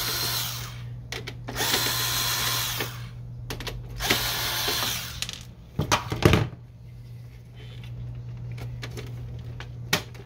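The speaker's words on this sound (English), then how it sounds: "So you just remove the screws here." A power screwdriver removes screws from a Canon Pixma MG5520 printer, whirring loudly and close in a few short bursts, with sharp metallic clinks as screws drop between runs.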